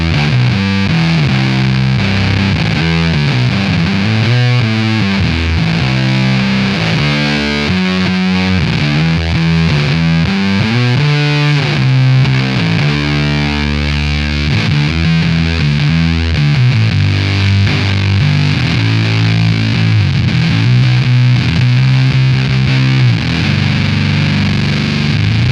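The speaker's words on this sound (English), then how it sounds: "Let's go ahead and turn on the Octave Fuzz filter." A standard Jazz Bass run through a Mastro Valvola OFF1 octave fuzz filter pedal plays a continuous, thick, distorted line with shifting notes and a filtered, synth-like edge, loud and steady throughout with no talking.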